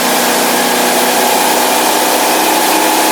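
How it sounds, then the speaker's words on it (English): A 2002 Sea Ray 280 Sundancer cruiser's engine runs loud and steady while the boat planes, a constant roar with no pauses or voices. "Boat's running nice and smooth."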